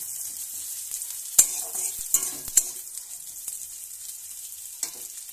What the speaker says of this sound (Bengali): কেটে রাখা পেঁয়াজগুলো দিয়েছি। তো পেঁয়াজগুলো ভালো করে ভেজে নিচ্ছি আমি।